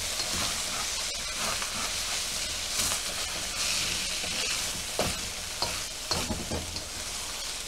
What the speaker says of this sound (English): Mix it all up again.